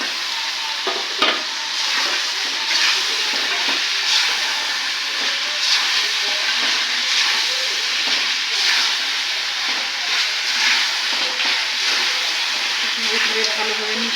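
Meat frying in spiced masala in a pan for a roast, a loud, continuous close sizzle and hiss that stays even throughout, with no talking.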